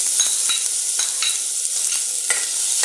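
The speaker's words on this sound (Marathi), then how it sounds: "आता ह्या तेलामध्ये आपण कांदा भाजून घेतो." Sliced onion hits hot oil in a pan and sizzles steadily up close, with soft stirring scrapes breaking through the bright frying hiss.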